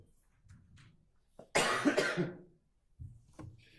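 A short burst of harsh coughing, close and fairly loud, set between quiet murmured voices.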